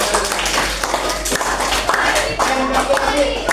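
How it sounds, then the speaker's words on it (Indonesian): Classroom applause from students clapping for their classmates during a computational-thinking lesson, a brief dense patter of hands mixed with voices and room chatter. "tepuk tangan untuk teman-teman."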